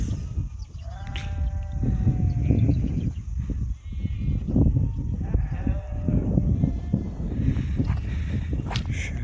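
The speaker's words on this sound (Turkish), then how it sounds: "Kuzular neresi riskliyse kuzular o tarafa geliyor" A flock of sheep and lambs on a hillside bleats repeatedly, several overlapping calls near and far over a steady outdoor rumble, with no talk.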